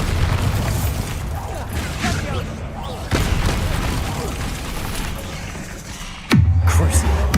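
A Bombarda spell blasts in Hogwarts Legacy, a sudden loud boom with a sharp low-end burst near the end, following an earlier thump amid continuous game rumble and effects.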